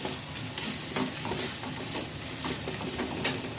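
Grated coconut frying and being stirred in a pan with mustard, poppy seed and ginger pastes: a soft, continuous sizzle broken by repeated scraping stirs, fairly quiet and with no voices.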